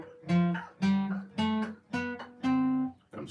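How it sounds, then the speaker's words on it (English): A major scale on guitar: about six sustained plucked notes in steady succession, each ringing with rich harmonics before the next begins. "Major scales are always built the same way, and they sound like this."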